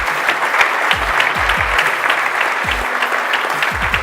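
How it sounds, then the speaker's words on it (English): A conference audience applauds steadily, a dense wash of clapping from many hands sustained throughout, with faint low thumps under it. "Give her a big round of applause."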